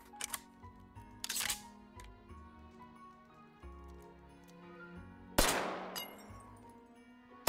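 Gunshots from a handgun in the VR game Hot Dogs, Horseshoes & Hand Grenades, heard as a few sharp cracks. The last one is louder and rings out with a long decay, set over background music.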